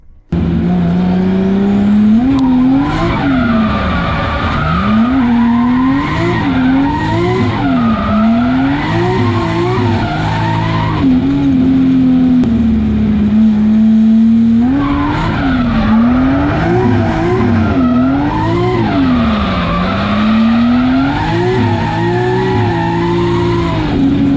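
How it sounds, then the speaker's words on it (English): Tires squeal continuously over a revving, straining engine with the clutch slipping as a car drifts through connected corners, the pitch swooping up and down, loud and close throughout. "you might hear me slipping the clutch a little bit and getting it going"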